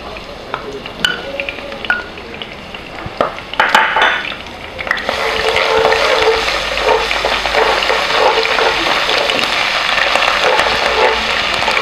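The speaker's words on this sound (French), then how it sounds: "je vais mettre de l'ail et puis mon gingembre râpé pour que ça parfume bien" Garlic and grated ginger frying in hot oil in a pan, a steady loud sizzle that swells after a few clinks and stirring knocks, then holds a dense, continuous hiss with no talking.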